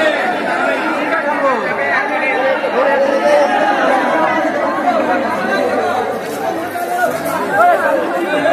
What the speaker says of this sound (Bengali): এই দেখুন, সবাই ভক্তদের কিন্তু জল ঢালার ভিড়।